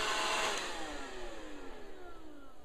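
Ecovacs DeeBot D56 robot vacuum cleaner running, a steady close whirring motor hum with a faint high whine and shifting tones as it moves.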